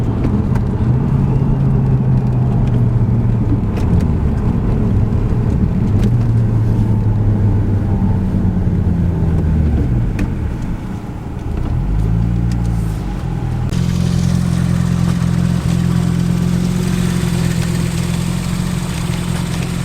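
An Audi S2 Quattro engine idles steadily with a low droning hum, a brief dip and rev in the middle, then settles back to a continuous close-up rumble.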